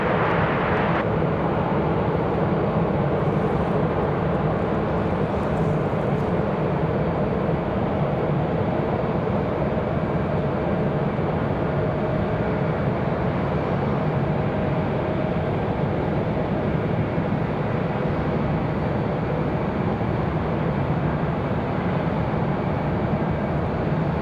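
An Alaska Airlines Boeing 737 MAX 9 departs Raleigh-Durham International at night, its jet engines making a loud, continuous roar that holds steady for the whole stretch with no speech.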